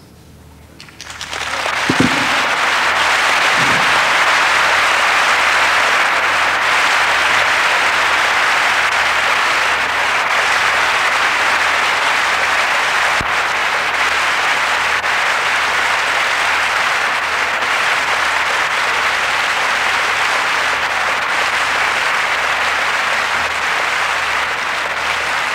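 A large religious gathering erupts into long, loud, steady applause that swells quickly and holds dense and even throughout.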